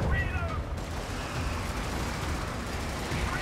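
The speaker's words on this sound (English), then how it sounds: "The machine gun is definitely a good time." Machine gun fire in the video game Helldivers: a dense, continuous rattle of rapid shots and explosive noise, loud and unbroken throughout, with game effects mixed in.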